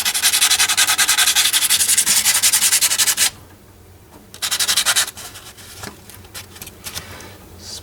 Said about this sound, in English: Alright, so we got some 320 grit, wet dry sandpaper.